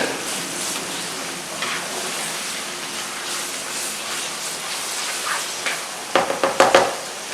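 Ground meat and sweet Italian sausage fry in a pan with a steady, close sizzle, then a few sharper stirring scrapes and crackles near the end; no one speaks.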